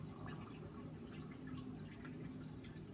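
Cinnamon mint tea pours from a kettle into a cup, a continuous gentle trickling and splashing of liquid that runs steadily at low volume.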